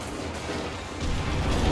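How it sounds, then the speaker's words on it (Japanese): Gunfire and explosions roar in the online shooter game Enlisted as a dense, loud wall of battle noise with rumbling booms, swelling louder in the second half. "銃声近くない"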